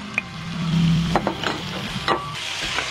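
Beef browns in olive oil over high heat in a pan, sizzling steadily, with a few sharp clinks and scrapes from stirring.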